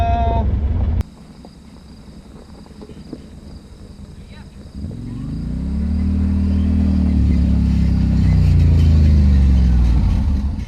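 A Yamaha Wolverine X4 side-by-side drives on with its tires sliding; after a quiet stretch the engine drone swells to a loud, steady roar midway and holds.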